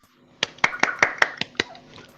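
Several sharp, evenly spaced hand claps, about seven in a row, sound close and fairly loud in a quiet room during a fighting-game tournament broadcast as a competitor is introduced.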